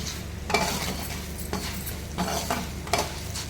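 A spoon stirs a spiced poha mixture seasoned with chili powder and a pinch of turmeric in a bowl, giving soft scraping and mixing noises with a few sharper scrapes spaced a second or so apart.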